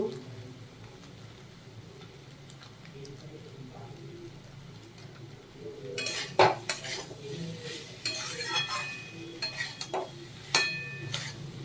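Vegetarian banana stem curry stirred in a pot with ghee and garam masala: a quiet start, then from midway a run of spoon scrapes and clinks against the pot, close and moderately loud, with a voice talking faintly underneath.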